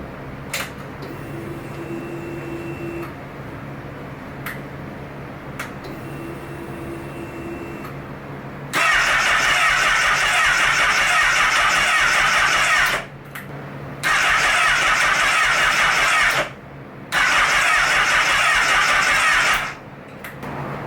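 Rebuilt Honda CBR1000RR sport motorcycle engine after cranking on the starter, catching and revving loudly in sustained bursts with brief drops between them, close by and with no talking.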